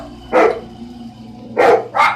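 Loud, close dog barks: one sharp bark, a pause, then two more in quick succession over a low background hum.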